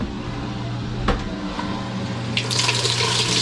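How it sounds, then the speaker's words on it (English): A Maytag washing machine in diagnostic mode draws in water. A steady low hum gives way to a rising hiss and rush of incoming water partway through. The sound is close and continuous, with no voices. "Water coming in."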